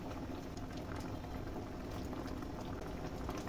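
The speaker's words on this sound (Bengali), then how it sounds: "এই যে আমাদের ডালে বলক চলে এসেছে।" Lentil dal bubbles at a steady boil in a cooking pot, a continuous close-up gurgle and hiss of liquid with no break and no talking.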